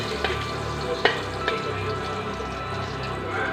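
Crushed garlic sautéing in a pan for ginataang tuna, a steady close sizzle with a few sharp clicks of a utensil, no talk.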